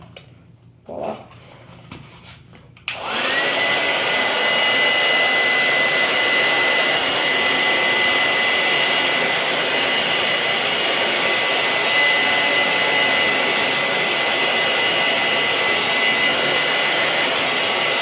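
Hair dryer blowing on a heat-resistant wig, a few brief clicks and bumps first, then a loud, steady whooshing roar with a faint high whine that holds unbroken to the end.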